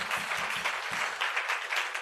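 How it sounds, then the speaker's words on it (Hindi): A church congregation claps at an Easter Sunday sermon meeting, steady dense applause filling the whole short stretch with no voices over it. "जोरदार तालियां बजाइए।"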